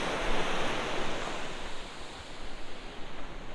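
Sea waves wash onto Kuzhuppilly Beach in Kerala with a broad, steady surf roar, swelling and easing in soft surges, with some wind noise on the microphone.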